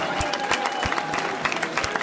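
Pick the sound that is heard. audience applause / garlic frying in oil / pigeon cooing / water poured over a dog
audience applause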